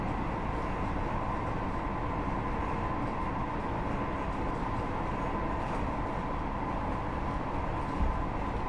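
A Class 158 diesel multiple unit on the Chat Moss line in Train Sim 2021 runs steadily, a constant low engine drone and rolling rail noise with no talk.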